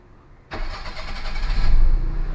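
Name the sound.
car engine starting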